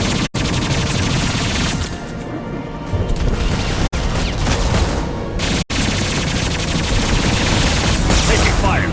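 Combat gunfire in Mass Effect 2, a loud, dense barrage of shots and impacts that continues almost unbroken for nine seconds, with only a few brief gaps.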